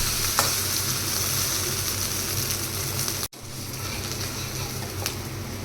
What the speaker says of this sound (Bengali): এই যে ডিম ভাজা হয়ে গেল